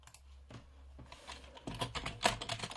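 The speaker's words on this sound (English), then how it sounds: "I'm going to see how bad my typing is now when I'm not looking at the screen" Typing on a computer keyboard, at first sparse and soft, then a faster, louder run of close-up key clicks and clacks with no talking.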